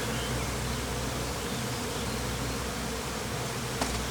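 A steady, dense buzzing of many honey bees swarming a wooden spool fills the air continuously, a close, even drone with no talking.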